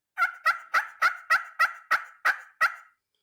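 A handheld turkey call imitating a wild turkey gobble, about nine sharp, evenly spaced yelps in quick succession, close and clear with nothing else audible.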